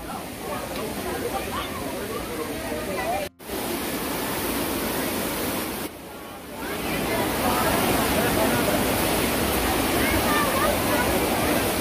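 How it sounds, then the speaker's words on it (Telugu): A waterfall roars continuously and loudly from close by, a dense, steady wash of falling water that drops out briefly twice before returning even fuller. "సో వాటర్ ఫాల్ ఇది అనమాట"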